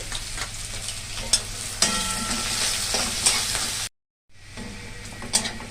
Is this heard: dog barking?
no